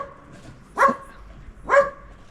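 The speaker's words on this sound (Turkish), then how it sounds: "Tabii köpekler de var." Two separate dog barks ring out about a second apart, fairly close and clear over a quiet background.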